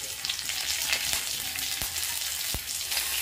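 Black mustard seeds and curry leaves sizzle in a few drops of olive oil, a dense steady crackling hiss close up, with a couple of sharp pops breaking through.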